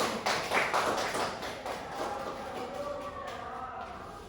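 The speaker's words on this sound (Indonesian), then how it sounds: "beri tepuk tangan untuk Penti" Classroom applause for a student, a burst of clapping from schoolchildren that starts strong and gradually thins and fades.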